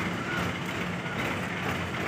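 A 1987 Massey Ferguson 240 tractor engine runs steadily, giving a continuous, even mechanical rumble and hiss that stays at a constant level throughout with no speech.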